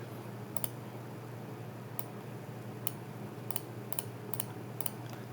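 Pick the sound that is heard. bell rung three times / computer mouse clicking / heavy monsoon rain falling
computer mouse clicking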